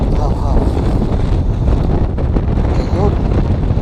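Wind on an open fishing boat at sea rumbling into the microphone as a steady, heavy low roar, with a person's voice briefly heard under it.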